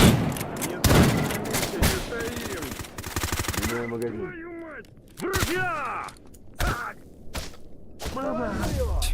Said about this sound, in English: Can you shoot the guy actively shooting me?